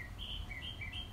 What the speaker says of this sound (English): I'm competing with a few birds this morning.